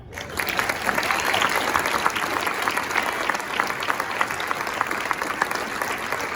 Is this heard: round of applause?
yes